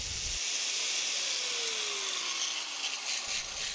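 An angle grinder disc bites steadily into a steel cone wrench, a continuous high whining hiss of metal grinding with a slowly shifting pitch, close and loud without any voices.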